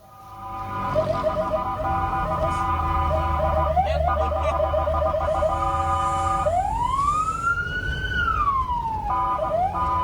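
A fire engine siren in Majalengka, West Java, wailing loud and close, first in rapid repeating yelps, then in a long rising and falling wail, with a steady engine rumble underneath.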